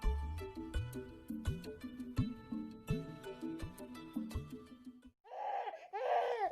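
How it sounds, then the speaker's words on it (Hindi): An infant cries in short repeated wails with melodic musical backing, fading into a brief cooing or fussing sound at the end; close and moderately loud. "ये किस बच्चे के रोने की आवाज सुनाई दे रही है?"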